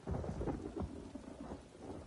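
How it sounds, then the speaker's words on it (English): Rain and rolling thunder from a storm in the video game Elder Scrolls Online, a steady loud downpour with deep rumbles swelling through, no voices. "I could do without this damnable rain. It's been storming since we arrived"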